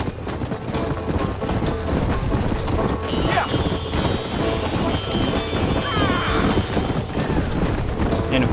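Horse hooves pound in a steady, rapid galloping rhythm during a race in the video game Red Dead Redemption, loud and continuous throughout, with a whinny and other game sounds layered on top.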